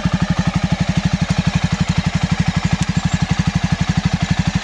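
A Jawa motorcycle with a twin exhaust silencer idles nearby, its engine thumping in a fast, even, evenly spaced pulse that stays loud and steady throughout.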